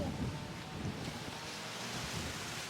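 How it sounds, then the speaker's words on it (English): Steady wind buffeting a microphone on a Florida beach at dusk, a constant broadband roar with faint surf beneath, no voices. "It's just a little bit windy."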